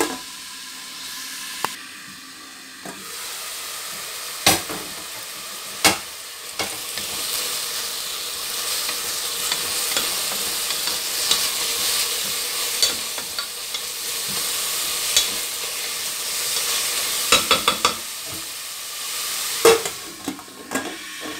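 Onions wilting in a pan for a Fez-style Eid kebab, sizzling steadily while a utensil stirs them with scraping knocks and a few sharp clacks; no voices.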